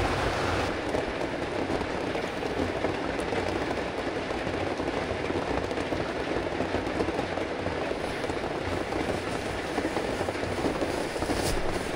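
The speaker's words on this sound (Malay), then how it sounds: "Hujan lebat." Heavy rain pours onto a campervan roof in a steady, dense roar that runs without a break, loud and close, with no voices heard.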